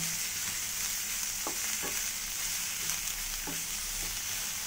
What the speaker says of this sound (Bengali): দিয়ে এটাকে আমি খুব ভালো করে এটা লাল লাল করে ভেজে নেব।